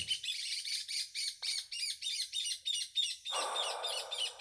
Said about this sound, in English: Alright, birds. Alright, you have your squawk.